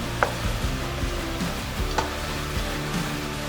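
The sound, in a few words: stirring frying meat and onions in a pan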